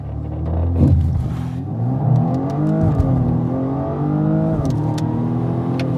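A BMW sedan launching hard under launch control, its engine note climbing steadily through several gears, loud and close, with no talk over it.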